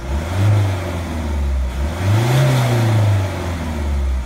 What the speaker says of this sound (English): a little small hole in the exhaust pipe I can hear now